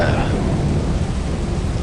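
Thunder rumbles in Lethal Company: a loud, continuous low roar with a rain-like hiss on top, steady and close throughout.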